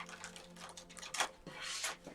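Tarot cards being shuffled, a soft, quick fluttering patter of riffled card edges in short bursts, faint and close with no voices.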